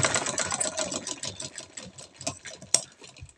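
A sewing machine runs in a dense, steady whir while stitching a pocket onto a salwar, its mechanical hum continuous and close for the whole stretch, with one sharp click near the end.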